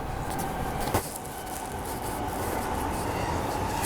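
A JR commuter train bound for Tokyo rolls past outside, a steady broadband rumble and rail hiss that holds evenly throughout, with one brief sharp knock near the start.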